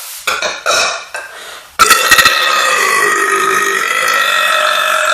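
A few short burps come first, then a loud, long, drawn-out belch that rumbles on for several seconds, close up and with no talking.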